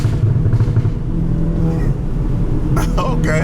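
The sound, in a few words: Volkswagen Golf GTI exhaust backfires when lifting off the throttle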